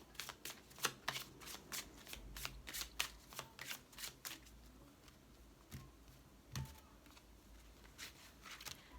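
A deck of cards being shuffled for a tarot-style reading: quiet, close riffling bursts in a quick irregular rhythm, fading to softer handling near the end.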